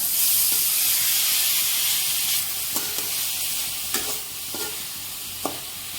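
Continuous frying sizzle with a bright hiss, easing slightly partway through, punctuated by a few sharp clicks of a utensil stirring the pan.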